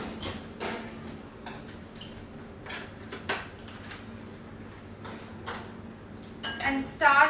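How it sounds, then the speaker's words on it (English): A hand beater whisking condensed milk and canola oil in a bowl, giving soft scraping and intermittent clinks against the bowl, with a louder rattling burst at the end and a voice talking underneath. "start by beating the condensed milk and canola oil mixture"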